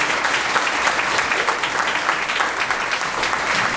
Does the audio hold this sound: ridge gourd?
no